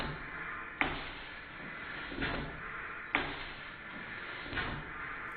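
A second-hand Stuart model steam beam engine runs with a persistent mechanical knock, producing faint, regular thuds roughly every second over a quiet background hum.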